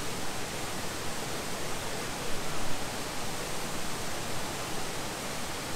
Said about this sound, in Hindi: सिर्फ पानी की आवाज़ सर सर वाली